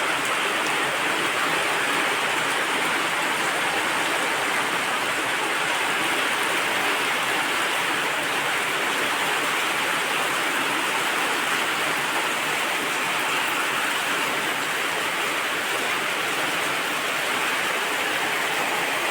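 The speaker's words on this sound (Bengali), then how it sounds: "ঠান্ডা বৃষ্টি, বাহ বাহ, খুবই আরাম।" Steady, dense rain falls for the whole stretch, a constant even wash of hissing drops with no breaks or variation, close and fairly loud, with no voices over it.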